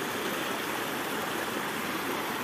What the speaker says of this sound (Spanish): Aquí hay agua, aquí hay agua.